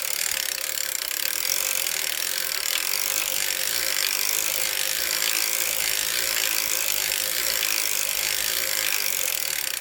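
An Erlbacher circular sock knitting machine being cranked while knitting a toe-up sock, giving a steady, dense mechanical ratcheting clatter that runs continuously and close, with no talk.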